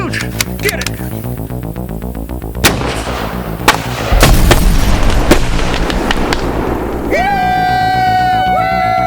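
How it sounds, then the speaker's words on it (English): A shot target explodes with loud booming bangs and gunfire cracks over a rhythmic mechanical background, followed by a rising electronic tone as people shout excitedly. "It exploded when I shot it."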